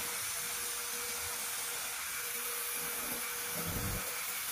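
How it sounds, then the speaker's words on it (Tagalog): The fan of a window-type air conditioner runs after its timer switch and capacitor were replaced, a steady broadband whirring hum that stays constant and near with a few faint knocks underneath. "So ayan, gumana na yung pan niya."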